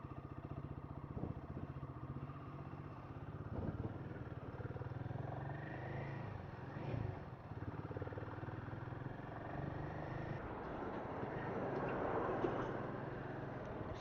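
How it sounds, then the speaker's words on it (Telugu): Royal Enfield motorcycle pulling away from a showroom at the start of a long road ride, a steady low engine thrum with road and wind rumble throughout, close and continuous, with no talk. "మన రాయల్ ఎన్ఫీల్డ్ షోరూమ్ దగ్గర నుంచి మన రైడ్ అయితే స్టార్ట్"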